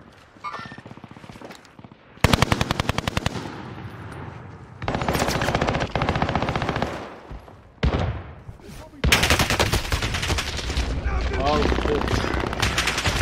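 Video game gunfire bursts out in loud rapid automatic volleys, several long strings of shots separated by short pauses, with a player's voice faintly under the noise.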